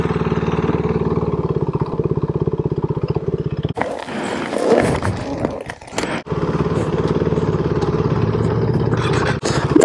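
Motorcycle engines idle and rumble steadily nearby while riders park their bikes, the running sound briefly broken by a burst of louder mixed noise midway before the engine drone returns.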